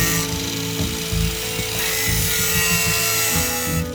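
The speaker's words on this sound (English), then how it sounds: "the angle grinder works great" An angle grinder cuts rusted metal out of the rocker panel of a 1985 4WD Toyota pickup, a steady loud whine with a rough, grating edge that runs without pause.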